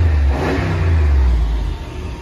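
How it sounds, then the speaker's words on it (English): A Jeep Grand Wagoneer Series III 4x4 with a 6.4 L engine revs briefly, a deep, steady rumble with a swelling rise of throttle near the start, close and loud without any talk. "I give it a little gas so you can hear that rumble we were talking about."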